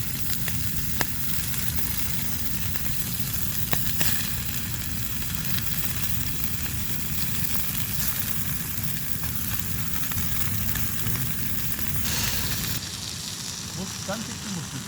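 Bacon medallions fry in oil in a cheap pan on a camping stove, giving a steady, dense sizzle that runs continuously throughout and drops slightly near the end.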